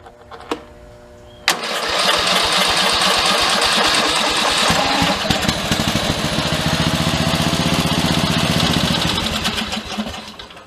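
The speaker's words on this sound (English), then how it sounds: "We got a live engine." A revived Craftsman riding mower engine cranks after a couple of sharp clicks, catches and runs steadily with a loud, close, rapid chugging for several seconds, then settles slightly near the end.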